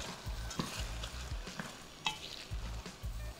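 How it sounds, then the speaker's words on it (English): Washed rice being mixed in a pot with a spoon, giving soft scraping strokes in a loose rhythm over a faint sizzle, close and fairly quiet. "So add in the rice. I'm gonna give this a mix."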